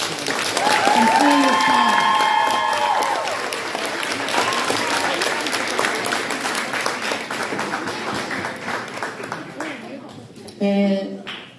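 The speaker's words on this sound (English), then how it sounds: "let's give it a round of applause for our coaches" At a Piranhas team banquet, a room of players and parents applauds the coaches with sustained clapping that peaks early and tapers off, while a voice speaks over it.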